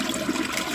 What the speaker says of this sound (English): And then we'll flush the toilet